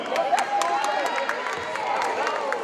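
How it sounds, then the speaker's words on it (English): Crowd cheering and clapping at a college sports event for a football player being introduced, a steady continuous roar of applause with scattered claps and shouts across the whole span. "Let's cheer him on."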